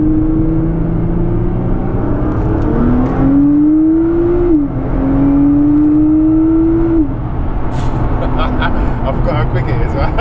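A Litchfield-tuned Nissan R35 GT-R in R mode accelerates hard from inside the cabin, its engine note climbing steadily, briefly dropping at a gearshift and then rising again, loud and continuous while people talk over it.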